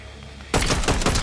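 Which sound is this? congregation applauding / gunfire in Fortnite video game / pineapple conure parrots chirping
gunfire in Fortnite video game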